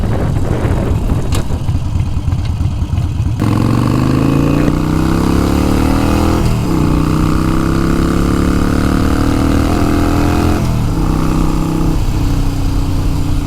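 A Harley-Davidson Iron 883 with a Vance & Hines short exhaust and VP3 tuner idles and revs with a deep, throaty exhaust rumble, pitch rising and falling through several throttle blips, loud and close throughout.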